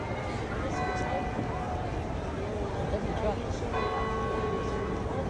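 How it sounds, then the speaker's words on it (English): Church bells ring at a distance on New Year's Eve in Orlando, their repeated tones sounding faintly through a lively outdoor crowd with people talking nearby. "bells are ringing"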